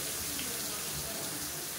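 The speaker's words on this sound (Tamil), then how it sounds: "இப்போ மிக்சியை அலசிட்டு கொஞ்சமாக தண்ணி சேர்த்துக்கிறேன்" Tap water splashes and runs into a mixer grinder jar as it is rinsed after grinding chutney paste, a steady close rushing hiss for the whole moment.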